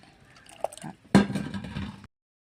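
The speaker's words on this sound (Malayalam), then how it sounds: "ഇനി ഒരു ശകലം പുളി പിഴിഞ്ഞ് ഒഴിച്ച്" Tamarind pulp squeezed by hand and its sour juice poured into a dried anchovy and snake gourd curry, a short wet squish followed by a close, liquid splash of about a second.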